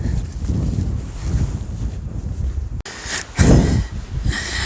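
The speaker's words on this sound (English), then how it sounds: "It's quite a windy, blustery day." Wind buffets the microphone in rough, uneven gusts on a path into trees, with a sudden click partway through and a strong loud blast shortly after.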